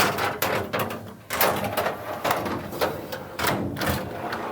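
Drawer of a Rousseau tool chest slid open and shut several times, giving repeated sliding rumbles and clunks up close with no talking.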